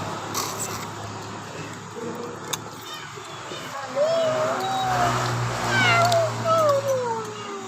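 A cat meows repeatedly, several drawn-out rising and falling cries in the second half, fairly near over outdoor background noise and a passing vehicle.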